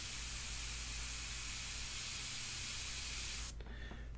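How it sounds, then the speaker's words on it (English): An airbrush sprays India ink onto paper in a steady, close, loud hiss that holds without a break and then cuts off near the end, leaving a quiet room tone. "just put in some detail here with the airbrush"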